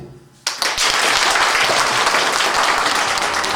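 Sudden burst of loud applause from a wedding crowd for musicians begins after a quiet moment and continues steadily, dense clapping filling the space.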